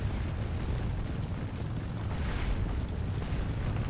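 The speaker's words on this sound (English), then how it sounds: "finally some artillery hits on those cavalry" Distant artillery fire in a Napoleonic battle video game, with a steady, dense rumble of booms and bursts rolling through the whole stretch.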